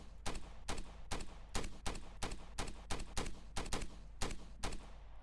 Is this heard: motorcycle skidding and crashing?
no